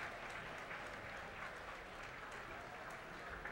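A distant crowd applauding at an outdoor display by Pathfinders, a faint continuous wash of clapping that stays steady and unbroken the whole time.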